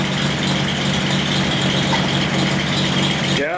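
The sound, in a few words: 240Z engine running on fuel pump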